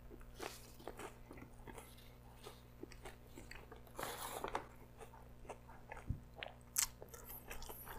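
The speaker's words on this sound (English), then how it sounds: "I'm gonna try out the regular Double Down, or the Zinger Double Down Max, and see how it eats." Biting and chewing into a KFC Zinger Double Down Max, soft close-up crunches and mouth sounds scattered over a quiet background, with a few sharper bites toward the end.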